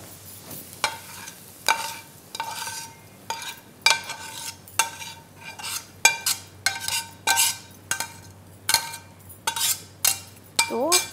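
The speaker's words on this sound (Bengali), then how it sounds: "আর পেঁয়াজটা এখানে ঢেলে দিই।" Fried onions are scraped and poured from one pan into another, making repeated metallic clinks and scrapes of a utensil against the pan in a loose rhythm over a soft sizzle.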